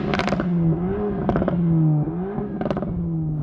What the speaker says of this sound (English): when you do the drive-by, it does crackles and pops when you're revving